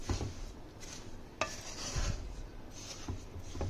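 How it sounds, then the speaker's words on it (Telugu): Semolina mixture stirred in a pan on the stove for ravva laddu: repeated scraping and rubbing strokes of a spoon against the pan, close and moderately quiet, with an occasional sharper clink of metal. "ఇలా బాగా ఒక 5 minutes మిక్స్ చేసుకుందాం స్టవ్ మీద ఉంచి."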